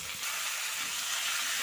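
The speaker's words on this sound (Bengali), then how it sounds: "আমি এবারে ঝিঙাগুলো দিয়ে দেব।" Sliced ridge gourd drops into a pan of frying potatoes, setting off a continuous hot sizzle and hiss of oil that stays steady throughout.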